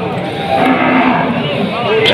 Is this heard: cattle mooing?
yes